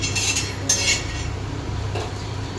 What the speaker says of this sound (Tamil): ராகி ராகி ஃப்ரை பண்ணிகிட்ருக்காரு